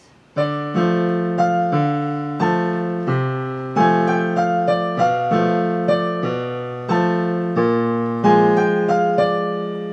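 A piano plays a flowing melody line over held chords, notes struck one after another in a steady rhythm, clear and unaccompanied.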